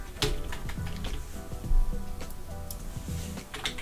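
Keys on a computer keyboard are pressed to type a username while setting up a Huawei EG8145V5 router; the keystrokes come as a steady run of close, crisp clicks with a few heavier taps, alone without talk.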